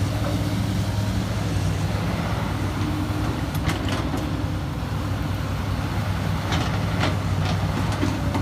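A heavy diesel engine of a used SANY SY205 excavator runs steadily with a deep low rumble throughout, with faint metallic clanks and squeaks now and then; no one speaks.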